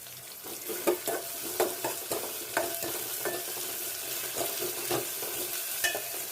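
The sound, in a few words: onions frying in tempering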